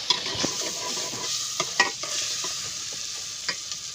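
Food frying in hot ghee gives a steady sizzle with soft stirring scrapes and a few clinks over about four seconds, close by with no one speaking.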